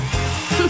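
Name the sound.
hair dryer blowing to melt marshmallows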